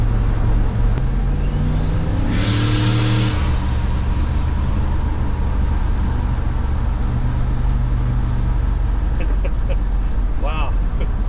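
Engine of the car Gonzo, swapped from a 5.3 to a different V8, running loud and close, revving briefly early then settling into a steady heavy rumble throughout.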